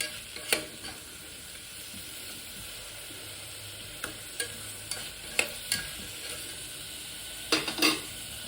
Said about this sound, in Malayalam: ഇനി ഇതിലേക്ക് ഒരു തക്കാളി ഉള്ളത് ഇതും കൂടെ ചേർത്തിട്ട് ഒന്ന് വഴറ്റി കൊടുക്കാം.